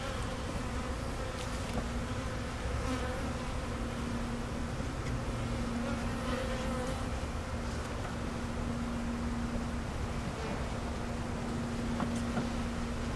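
Honey bees being installed into a new hive hum in a steady, close buzzing drone that holds unbroken throughout.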